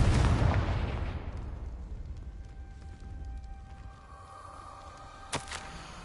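A Confringo fire spell from Hogwarts Legacy on PS4 bursts with a loud, broad blast that slowly rumbles away over several seconds, followed by a faint sharp pop near the end.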